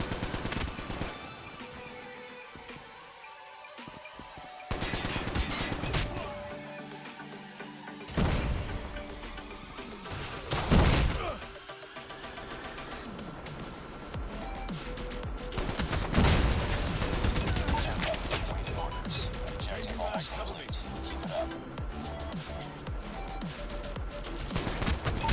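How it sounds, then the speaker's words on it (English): ASM10 assault rifle fire in a first-person shooter video game: rapid automatic bursts and sharp crashes, loud and close, repeating in clusters across a busy battle soundscape. "المهم باش نعملو تيست لل ASM10 بعد ما نصلحو الريكول نتاعو"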